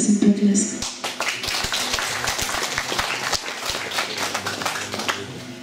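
An audience at a Mother's Day celebration breaks into sustained applause, dense clapping that holds steady across the clip.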